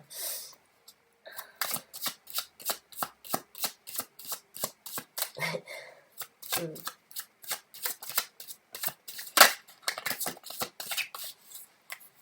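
Tarot cards shuffled by hand in a steady series of crisp, close riffling bursts, each a quick papery flutter followed by a short pause, repeating many times.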